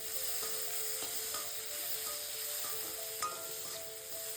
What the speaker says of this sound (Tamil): ஓரளவுக்கு ஃப்ரை ஆனதும் ஆனியன் ஆட் பண்ணி நல்லா ஃப்ரை பண்ணிவிட்டு